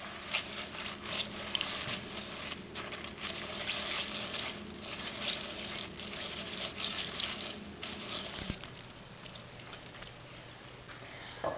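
A raspberry dessert mixture with melted butter is stirred in a bowl, giving a steady wet swishing and scraping that runs unbroken for the whole stretch, close by, with no talk.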